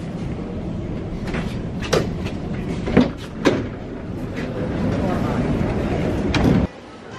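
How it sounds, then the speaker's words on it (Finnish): Riding a Helsinki metro train, with a steady rumbling interior drone broken by a few sharp clunks and rattles, and people talking throughout. "nyt mä lähden takas keskustaan ja mä menen metrolla"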